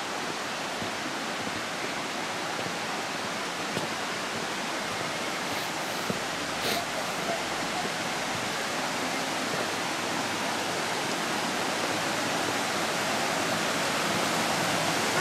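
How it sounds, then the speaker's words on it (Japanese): Steady broadband roar of a waterfall in the Yoro Gorge, clear unmuddied water pouring continuously and loudly, close by and alone without voices for the whole span. "そしてまた滝です。"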